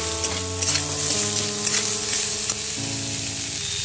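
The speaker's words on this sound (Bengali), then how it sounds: "আমি প্রথমে আলুটা দিয়ে দিচ্ছি, একটু ভাজা ভাজা করে নিচ্ছি।" Potato pieces frying in hot oil in a village kitchen, a loud continuous sizzle with occasional stirring scrapes, close and alone without talk.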